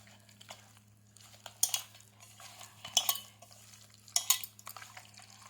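A spoon stirs chicken 65 marinade with salt and spices in a bowl, giving soft wet scraping with three sharper clinks against the dish over a steady low hum, fairly quiet and without talk.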